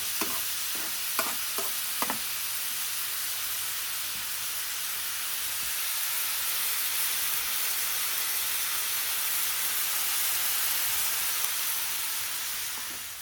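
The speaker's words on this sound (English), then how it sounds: "I'm going to need the onions to sweat down and soften up." Onions sweat and fry in a pan over a medium gas flame, giving a steady, even sizzle and hiss throughout, with a few light utensil taps near the start.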